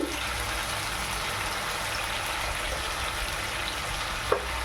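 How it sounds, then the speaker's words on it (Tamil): Chicken with curry leaves, chilli powder, curry masala and salt sautéing in a pan, a continuous soft sizzle with a brief clink near the end, no voices. "இதெல்லாம் போட்டு நல்லா வதக்கிக்கலாம்."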